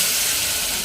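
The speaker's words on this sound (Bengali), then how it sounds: "তারপরে এই তেঁতুলের জলটা দিয়ে দেওয়া হলো" Tamarind water, made from soaked raw tamarind, poured into a hot pan holding fried hilsa fish heads for a sour curry, giving a steady, loud broadband sizzle and hiss that fills the short moment without any talk.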